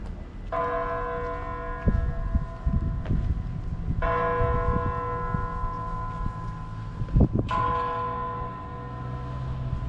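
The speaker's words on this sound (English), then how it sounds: "Ah, you could hear the bells ring." The bells of Hallgrímskirkja church in Reykjavík ring out loudly in slow, spaced strokes, their tones lingering and overlapping, with outdoor rumble underneath.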